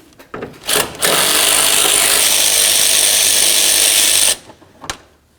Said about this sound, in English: I'm going to remove both of my mounting bolts up along the top right here